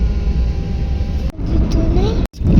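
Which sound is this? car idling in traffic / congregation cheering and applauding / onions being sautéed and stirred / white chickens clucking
car idling in traffic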